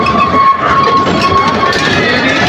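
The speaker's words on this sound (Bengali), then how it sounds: "ট্রেন চলতেছে ট্রেন" An amusement park ride train at Fantasy Kingdom rolls along its track with a loud, steady rumble and rattle and a faint sustained tone above it, close by throughout.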